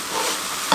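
Suji halwa is stirred in a pan over medium flame, a soft continuous sizzle with a brief spoon scrape near the end, close and alone without talk.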